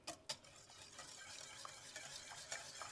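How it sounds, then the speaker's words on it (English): A spoon stirs eggs into hot liquid in a pot for pastitsio, giving faint, continuous scraping and swishing with a few light clicks at the start and a gentle sizzle underneath. "I'm going to keep stirring it so it doesn't scramble"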